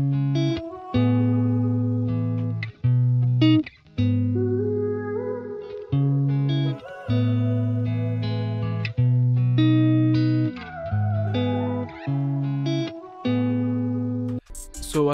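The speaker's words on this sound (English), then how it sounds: "We just solo the guitar and stuff." Melodic guitar part played alone in an FL Studio beat, steady phrases with brief pauses and a short noisy burst at the end.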